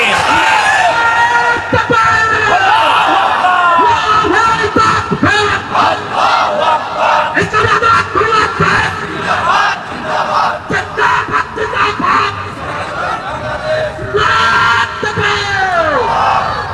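A large crowd at a political rally roars back a takbir response, many voices shouting together in repeated loud, surging waves that fill the whole stretch.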